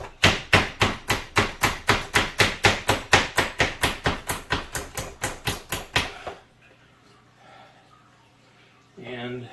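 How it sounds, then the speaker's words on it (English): Rapid, evenly spaced chopping strikes from a food chopper, about four per second, loud and close, stopping abruptly, then quiet with a faint background hum and a brief noise. "one of the things I especially use it for is for chopping up things like this"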